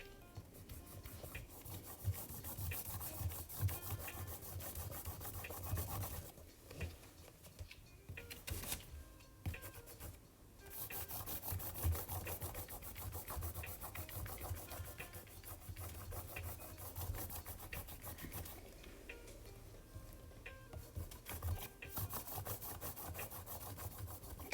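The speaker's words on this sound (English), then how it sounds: "like the eraser that I'm using right now" An eraser scrubs back and forth across drawing paper in quiet, repeated rubbing strokes with brief pauses between bursts, soft and close with no talking.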